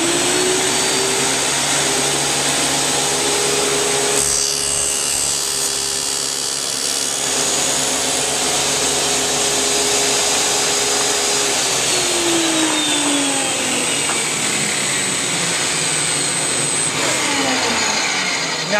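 A running saw blade cuts wood finger joints on a jig, a loud steady whining drone that shifts in tone as the workpiece passes through the blade, with no voices.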